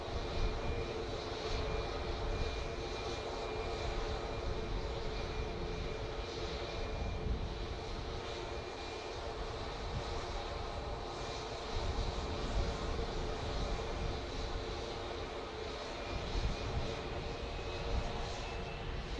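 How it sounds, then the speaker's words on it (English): A two-year-old SunExpress Boeing 737-800 MAX bound for Antalya takes off at Manchester Airport, its engines a steady, loud broadband roar that holds throughout with a faint whine above. "This Sun Express off to Antalya, Boeing 737-800 MAX."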